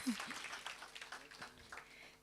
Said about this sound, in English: Another round of applause for our chairperson.